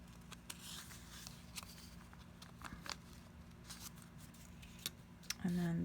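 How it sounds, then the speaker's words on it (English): Scrap paper being torn by hand along its bottom edge while making neutral-toned scrappy notepads, giving close, crackly ripping and rustling bursts over a steady low hum, ending with a louder handling sound. "And just kind of rip that along the bottom."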